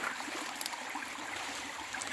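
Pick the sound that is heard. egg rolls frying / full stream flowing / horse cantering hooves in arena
full stream flowing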